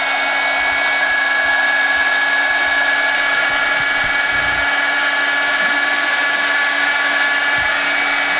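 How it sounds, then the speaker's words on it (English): Heat gun shrinking heat shrink tubing over a wire terminal on a car engine swap, a loud constant whirring blower roar with a steady high whine, close and unbroken, no talking. "I'm putting heat shrink on it, Chris."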